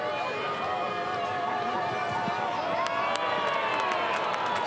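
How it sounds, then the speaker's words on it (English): St Kilda Saints fans applauding and roaring in a packed stadium during an AFL match against Port Adelaide: a steady, loud crowd swell, with a commentator talking over it. "Saints fans applaud."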